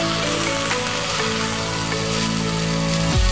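Mourala fish and vegetables fry with salt, turmeric and cumin in a pan, a steady loud sizzle and crackle that continues without a break.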